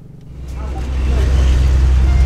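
Car driving along a road at night, a loud close engine and road rumble swelling over a couple of seconds into a steady low drone.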